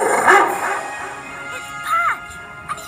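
A cartoon dog yips and barks in short bursts, with a whimpering note near the end, mixed over a background music score.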